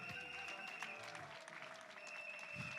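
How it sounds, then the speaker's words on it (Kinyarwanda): Guests at a Rwandan wedding applauding, a steady wash of clapping heard faint and distant, with a high sustained tone and some low murmurs beneath it. "Amashyi menshi cyane."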